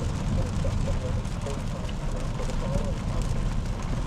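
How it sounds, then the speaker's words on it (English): Steady rushing road noise from inside a car moving on a Nebraska gravel road, with a constant patter of gravel striking the body throughout. "I can hear the gravel hitting the car"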